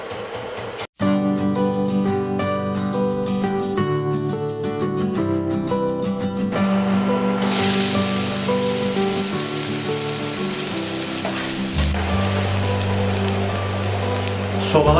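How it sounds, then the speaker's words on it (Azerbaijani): Oil heating in a hot frying pan gives a steady broadband sizzle that takes over in the second half, after a stretch where background music plays over a quieter hiss. "Tava qəşəng qızandan sonra duru yağı da əlavə edirik ora."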